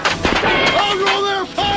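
Gunfire in a Back to the Future sandbox video game, loud booming shots close together over a short burst, with a voice talking over them.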